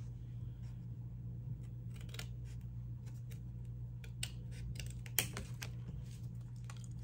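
Paper is cut with a cutter for an envelope journal: a series of short, crisp snips and clicks, close and quiet over a steady low hum, with one sharper snap near the end.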